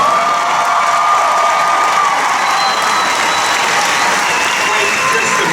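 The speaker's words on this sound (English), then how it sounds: "let's have one more big round of applause for our winner," A large convention audience at a Disney Parks panel gives a loud, sustained round of applause for a winner, dense clapping mixed with cheers and whoops throughout.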